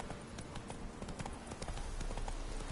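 Horse Roach trotting in a video game, a quick, even run of hoof clip-clops repeating steadily, fairly close and quiet.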